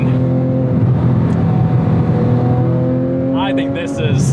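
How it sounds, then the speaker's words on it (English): A Porsche 911 997 GT3 flat-six engine hums with a steady, loud tone and strong layered harmonics, with a brief rising rev near the end, voices audible over it. "I think this is peak Porsche engine."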